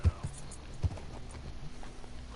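A horse's hooves clip-clop at a walking pace in Red Dead Redemption 2: faint, uneven thuds over a low ambient hum, with no talking.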